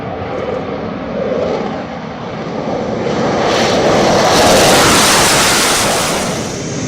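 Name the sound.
Rafale, Sukhoi and Tejas fighter jets roaring overhead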